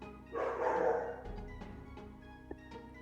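Dogs barking in a sharp burst, followed by scattered, fainter yips and barks as the noise settles.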